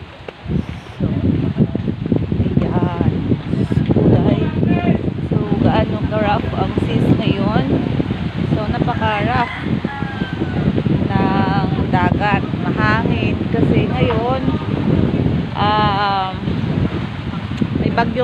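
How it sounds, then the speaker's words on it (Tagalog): Strong, steady wind from Tropical Depression Fabian roars across the microphone by the sea at high tide, buffeting constantly while a person talks over it. "So, malakas ang hangin."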